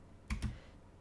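Two quick, soft keystrokes on a computer keyboard, close and faint against low background hiss, while RGB colour values are entered in SketchUp.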